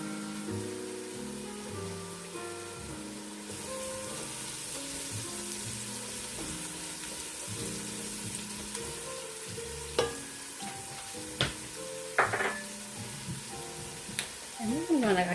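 Garlic sizzles in a pan for a one-pot chicken and sausage alfredo, a steady frying hiss over music, with a few sharp utensil clinks and stirring scrapes toward the end.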